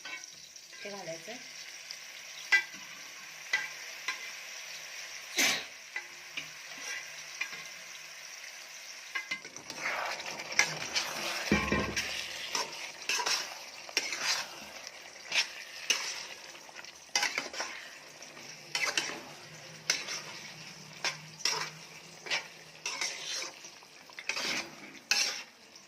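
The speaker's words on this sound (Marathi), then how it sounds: "ग्रेव्हीमध्ये मटण छान मिक्स करून घ्यायचं आहे." Cooked mutton stirred into sizzling fried masala gravy for a Kolhapuri tambda rassa, with steady frying crackle, a spoon scraping the pan in repeated strokes and occasional clinks of utensils, close and continuous without speech.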